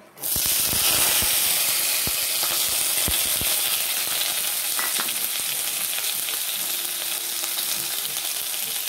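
Diced beans and carrots drop into hot oil with cumin, bay leaf and chilli, bursting into a loud, constant close-up sizzle with a few stirring knocks.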